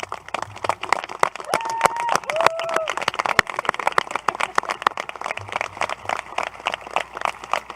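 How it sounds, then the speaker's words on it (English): Scattered clapping from an audience honouring school staff at a high school graduation ceremony, the claps irregular and spread out rather than a thick roar, with a brief whistle or call in the middle. "Let's give them a round of applause."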